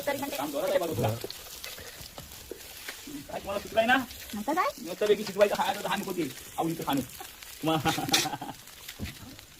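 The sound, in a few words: food roasting in oil in a pan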